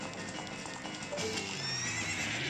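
A horse in the video game The Legend of Zelda: Ocarina of Time 3D gives a loud, clear neigh over hoofbeats in a short burst, with no speech.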